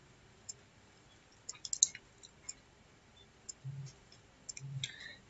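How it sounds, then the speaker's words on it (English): Quiet computer mouse clicking on a login button, several faint, sharp clicks scattered irregularly with short pauses, alongside a couple of soft low thumps. "I click on login."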